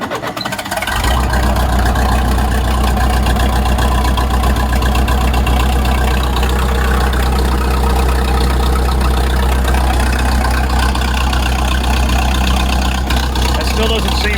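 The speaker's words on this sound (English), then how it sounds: "Let's go ahead and start this old girl up" An old bulldozer engine cranks briefly and catches, then settles into a loud, steady, close-up diesel idle with a deep rumble and rapid rhythmic chugging that runs unbroken throughout.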